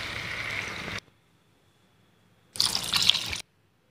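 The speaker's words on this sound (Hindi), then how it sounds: "अब हम इसमें डालेंगे 2 कप पानी।" Two cups of water being poured into a pan for instant atta noodles, a steady close splashing stream for about a second, a pause, then a second brief pour with bright splashes.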